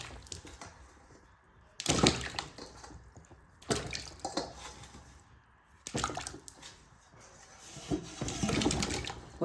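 Potatoes being washed by hand in water for homemade chips, with bursts of splashing and sloshing that come in roughly regular rounds, separated by quieter dripping gaps.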